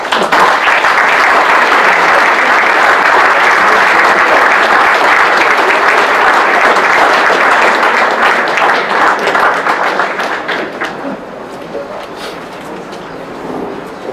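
Loud, dense audience applause at a Greco-Roman wrestling hall of fame induction ceremony, sustained through most of the stretch and then tapering off to scattered clapping near the end.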